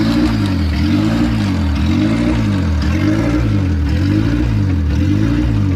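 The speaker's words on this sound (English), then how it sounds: "That's a bad air idle control valve." A 2003 Honda CR-V engine with a faulty idle air control valve, revving loud and close in a steady rising-and-falling cycle, the pitch surging up and down repeatedly with no talking.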